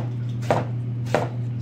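Two sharp knife chops land on a cutting board as a cantaloupe is quartered, spaced about half a second apart over a steady low hum, with no one talking.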